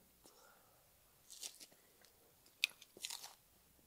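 Crunchy bites of Italian pancake-style pizza, with several crisp chewing bursts close up, quiet between them, and soft breaths or murmurs in the background.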